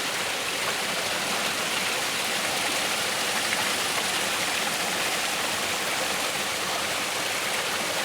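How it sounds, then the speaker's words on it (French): A river flows outdoors, a steady, dense, broadband rush of water with no pauses, fairly near and uninterrupted for the whole stretch. "pour écouter le chant de cette rivière magique"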